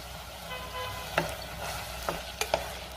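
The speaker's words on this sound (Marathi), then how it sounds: "टोमॅटो घातल्यानंतर सुद्धा मी 1 मिनिट व्यवस्थित परतून घेतलेला आहे" Chopped vegetables and tomato sizzle softly in a pan, with a few sharp scrapes and taps of a spoon against the pan.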